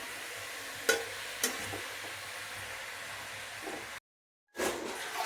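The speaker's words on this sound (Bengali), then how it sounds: "পালং শাকের ঘন্ট রান্না হচ্ছে। নুন দিয়ে দিল মা, ভালো করে নাড়া দিয়ে তারপর ঢাকা দিয়ে দেবে।" Spinach ghonto curry is stirred in a pan, with a continuous low sizzle broken by a couple of sharp scraping stirs near the start, then a brief cut to silence before the cooking noise returns.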